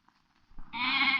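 A goat gives one loud, close bleat that swells and holds for about half a second, after a few faint rustles, in a Tamil village panchayat comedy scene.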